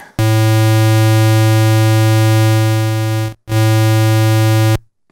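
A loud, buzzy synthesized square wave tone holds steady, cuts out briefly, then sounds again before stopping abruptly.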